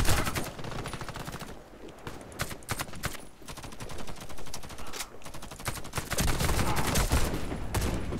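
Rapid, loud gunfire in the shooter game Warface, sustained automatic bursts with brief gaps, dense and continuous throughout with little else audible.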